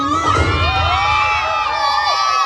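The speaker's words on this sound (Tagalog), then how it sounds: "sigawan at palakpakan para sa wine!" A crowd at a family reunion cheers, with high children's shouts and whoops mixed with loud excited voices, close and continuous.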